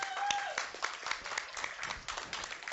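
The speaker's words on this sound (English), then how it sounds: "give them a big round of applause for sponsoring KluCon this year" A conference crowd at the KluCon tech event applauds a sponsor, a lively burst of many hands clapping close by, irregular and rippling, with a faint voice mixed in.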